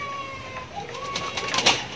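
Soft cooing calls from pigeons or doves nearby, with a few brief clicks and rustles around them.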